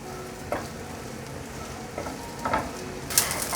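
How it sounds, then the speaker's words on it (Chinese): Pieces of tempeh frying in hot oil in a wok give off a steady low sizzle. Soft scrapes of stirring come through now and then, with no voices. "油热了，把天贝放进来炒香。"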